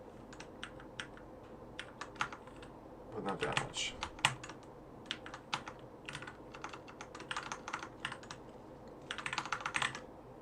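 Someone types on a computer keyboard during a photo-editing session, with irregular bursts of light, crisp clicks near the microphone, and a brief faint voice speaking underneath.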